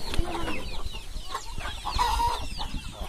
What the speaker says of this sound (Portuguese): Hoje a gente vai mostrar os galos, os frangos aqui da gente.